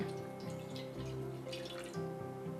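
Water trickles and drips steadily into a cooking pot in a home kitchen, alone and close, while preparing a jaggery filling for vella kolukkattai.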